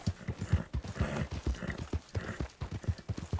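Horse hooves clip-clop in the video game Red Dead Online, a steady, fairly close trotting rhythm of sharp, evenly spaced hoof strikes with no talk over it.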